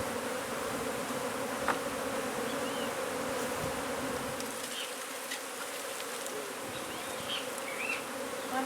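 A dense swarm of honey bees hums in a loud, continuous buzz, close by and steady throughout, during a hive removal from under a woodpile in McAllen, Texas.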